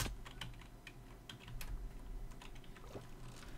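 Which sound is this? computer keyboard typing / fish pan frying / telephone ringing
computer keyboard typing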